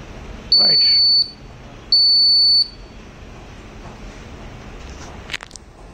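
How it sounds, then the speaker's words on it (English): Two long, loud electronic buzzer tones from a Raspberry Pi driver drowsiness detection setup, each lasting under a second and separated by a short pause, over quiet room background. "LEDs and buzzer will get on and off 2 times"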